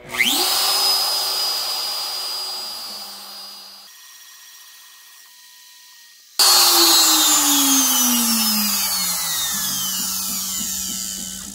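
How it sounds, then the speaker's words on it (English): A CNC router spindle machining a guitar body gives a loud, close, steady whine that spins down, pauses with a faint hum, then restarts abruptly with a bright shriek and gradually falling pitch. "We're going to turn on the spindle and run it."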